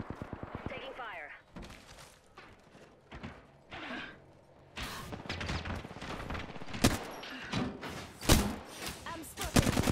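Gunfire rattles in Apex Legends, with bursts of sharp shots and thuds scattered irregularly across the scene, some loud and close, mixed with talking voices.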